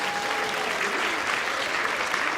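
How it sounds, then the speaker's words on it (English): A museum event crowd gives a round of applause, a thick continuous wash of clapping that holds evenly loud throughout, with a faint tonal hum underneath. "Let's give Asia a round of applause."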